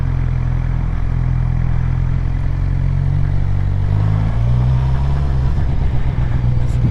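A motorcycle engine runs steadily as the bike is ridden and turned, producing a loud, close, low rumble that rises slightly in pitch toward the end, with wind noise over it.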